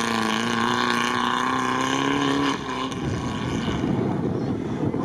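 Nissan Patrol rally car engine droning loud and steady with a strong tonal whine, then dropping into a rougher rumble partway through, heard from close by.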